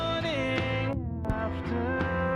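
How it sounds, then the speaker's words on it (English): Muffled music through a normal, non-resonant low-pass filter with dulled highs, its beat and tones sounding soft and lo-fi throughout. "a normal low-pass might sound a bit like this"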